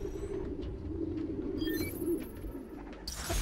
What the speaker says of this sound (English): There's a lot of birds around here.